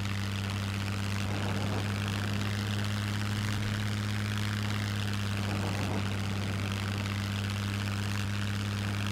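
Steady propeller aircraft engine drone in the SCUM video game during a landing approach to a secondary runway near power lines, a constant low hum with strong low tones held throughout, no talking.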